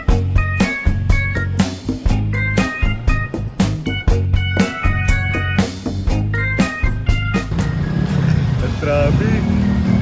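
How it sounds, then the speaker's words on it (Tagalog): Road traffic during a commute to work, with steady engine rumble and repeated sharp horn-like bursts and clatter, close and busy throughout, later easing into a broader hiss. "Traffic."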